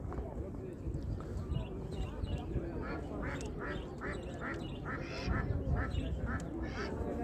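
Ducks quacking at a poultry and bird market in Ganja, a rapid run of nasal quacks in the middle of the clip over dense crowd chatter and market bustle.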